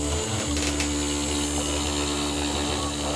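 An Anet A8 CNC machine cutting material runs with a steady, loud mechanical drone and heavy vibration, a continuous buzzing hum that holds throughout with no voices.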